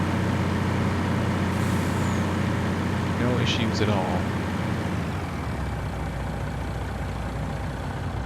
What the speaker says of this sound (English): Good sound on this truck as well, very comparable to the other ones and the base game trucks.